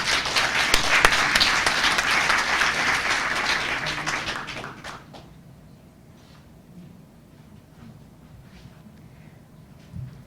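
An audience at a mental health parity lecture claps loudly for about five seconds to welcome the speaker, then the applause drops off to a quiet room with faint scattered noises.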